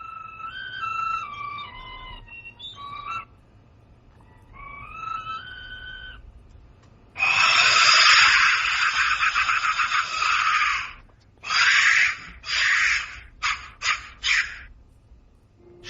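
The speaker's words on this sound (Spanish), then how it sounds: "Sonido percutiendo el interior de uno de estos silbatos intactos de la muerte" Skull-shaped clay Aztec death whistle blown in loud, harsh, shrieking bursts: one long sustained scream followed by several shorter blasts, with softer tonal whistling heard earlier.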